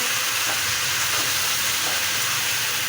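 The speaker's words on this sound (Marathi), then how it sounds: "व्यवस्थित हलवून घेऊ आपण मस्त" Rava dosa vegetable mixture being stirred in a hot pan, a steady sizzling hiss with faint scraping of the spoon, close and continuous without any talk.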